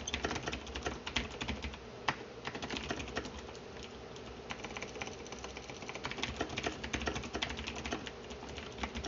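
Fast, steady typing on a computer keyboard, dense clicks of keys with a few heavier strokes, close and alone with no talk over it.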